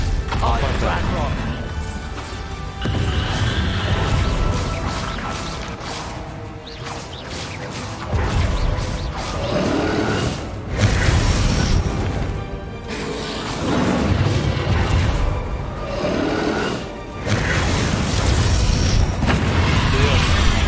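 Bombarda spell blasts in the video game Hogwarts Legacy, with repeated loud booms and crashing impacts rolling through a busy combat mix, a voice talking over parts of it.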